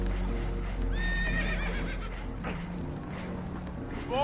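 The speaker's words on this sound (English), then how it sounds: "Horses are spooked, and we're taking on water." Spooked horses on a boat in Red Dead Redemption 2 let out a sharp, clear whinny, then a few fainter neighs. Hoof clatter and a low rumble of water and wood sit underneath.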